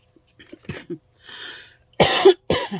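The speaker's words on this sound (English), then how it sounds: "I'm so sorry about the coughing" A person coughs several times up close in short, harsh bursts, with a throat-clearing rasp between them.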